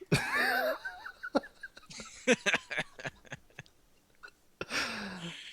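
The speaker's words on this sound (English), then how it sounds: "He's chewing on my headphones again over there." A cat gnaws on a pair of headphones, making a run of sharp, irregular chewing clicks and crunches up close. Laughter and voices are heard at the start and again near the end.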